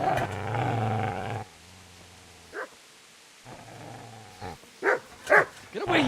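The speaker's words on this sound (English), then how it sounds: "Get away, you mutt!" A dog in Kingdom Come: Deliverance barks and snarls in a loud burst at the start, followed by quieter growls and several sharp yelps.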